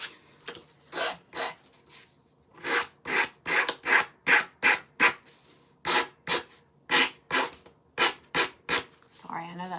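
A sandpaper board with 100 and 180 grit sides rubs back and forth on a craft piece in a quick, regular rhythm of loud, close, rasping strokes, about two per second, with a short pause midway.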